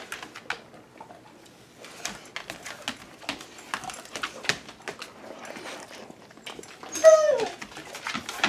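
A dog crunches and chews raw chicken feet, with a run of irregular crisp cracks and smacking bites close by, and a brief whine near the end.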